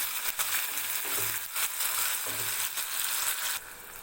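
Ivy gourd fries in oil with a steady crackling sizzle, interrupted by a few scraping stirs, close and fairly loud, with no speech.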